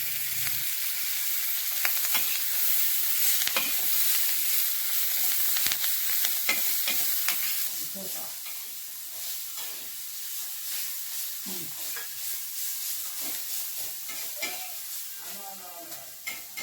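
Peas and chickpea greens fry in oil in a home pan, the sizzle brisk and continuous at first, then quieter as a voice and other household talk come and go.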